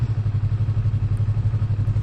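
A 2019 Yamaha YZF-R3 motorcycle idles at a traffic light with a steady low, pulsing thrum, close and even, no talk.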